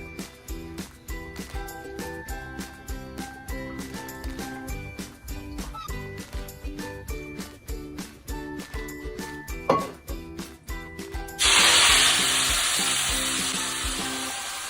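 Mint leaves drop into hot oil in a pan for pudina chutney, setting off a loud, sudden sizzle that keeps frying steadily. Before it, a stretch of rhythmic clinking and tinkling kitchen sounds.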